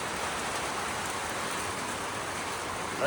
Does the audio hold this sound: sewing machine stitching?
no